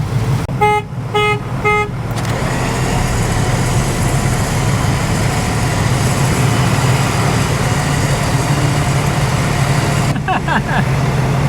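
Three Jeeps are hauled 20 feet up by their winches in a timed three-way race: a loud, steady mechanical drone runs throughout, with short horn-like toots near the start and again near the end.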